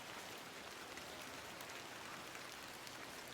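Steady rainfall in the video game The Excavation at Hob's Barrow, a soft continuous hiss of drops with no pauses, faint and alone without voices.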